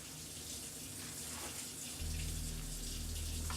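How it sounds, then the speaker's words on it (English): Tap water runs into a bowl of chicken wings, a steady close-up gush that thickens and grows louder midway as the flow increases. "fill that bowl with water"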